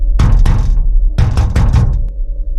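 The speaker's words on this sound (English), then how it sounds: "he knocked again" Knocking on a door comes in two loud bursts of several sharp raps each, separated by a short pause.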